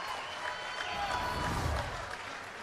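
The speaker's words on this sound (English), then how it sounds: "Crowd is loving it." Crowd at a Major League Pickleball championship match applauding and cheering, a steady wash of clapping and voices at moderate level through the whole stretch.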